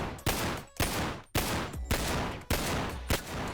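Six sharp gunshots from a low-poly gun pack in the VR game Bonelab fire at a steady rhythm, each a loud crack with a short ringing tail, and no voices between them.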